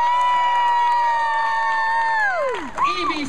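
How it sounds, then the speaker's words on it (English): A crowd cheers and shouts in a long, sustained roar that falls away at the end, loud and close, with voices rising above it. "Give a big round of applause for Percival Peabody, Elsie Doan."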